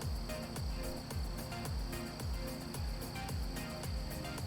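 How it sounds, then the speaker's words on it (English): Steady, high-pitched cricket chirping runs through the whole clip, with a repeating low pulsing rumble underneath, ambient soundscape from the game American Truck Simulator. "that squealing sort of noise when I'm in the external view is like crickets from the ambient sound"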